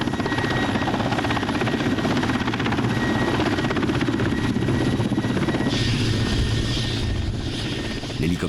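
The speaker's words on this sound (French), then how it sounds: "L'hélicoptère se pose sur le sol boueux de l'île Liakovski." A helicopter's rotor thumps loudly and steadily nearby as it lands on muddy ground on Lyakhovsky Island, its engine whining, with the pitch shifting slightly as it settles, and faint voices underneath.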